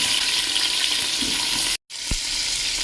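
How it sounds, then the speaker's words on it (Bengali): Pieces of young jackfruit coated in salt and turmeric fry in hot oil with whole cumin, dried chillies and bay leaves. The sizzle is loud and steady, with one very brief dropout and a soft stirring knock. "ভালো করে এগুলো একটু ভেজে নেব।"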